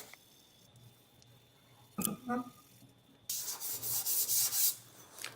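Close, rhythmic rasping of sandpaper scrubbing a metal tank in repeated strokes, following a brief knock and a short silence.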